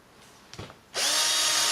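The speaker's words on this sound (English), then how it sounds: "First we need to drill some pilot holes in these end bits that the screw's going to go through" A cordless drill bores pilot holes into wooden end pieces for a model train layout baseboard, a couple of soft knocks and then the motor spinning up into a steady, fairly close whine.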